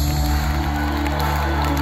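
Concert audience in a Budapest arena applauding and cheering, a dense, steady wash of clapping and crowd noise with loud music-hall hum underneath, continuous throughout.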